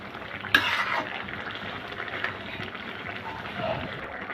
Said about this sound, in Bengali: ভালো করে লাউয়ের সাথে টমেটোগুলা মিশিয়ে নিব যাতে সিদ্ধ হয়ে যায়